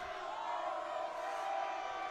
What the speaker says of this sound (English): The noise from the Lincoln sideline is incredible.